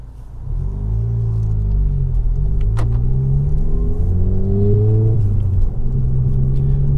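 A car's engine rumbles steadily from inside the cabin while driving over a rough, textured road surface, with a low continuous drone and rising engine tones as it picks up speed; no one talks.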